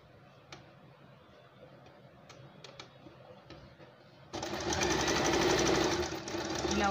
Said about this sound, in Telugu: ఇప్పుడు ఫ్రంట్ పార్ట్ కుడుతున్నాను, లైనింగ్ అటాచ్ చేస్తున్నాము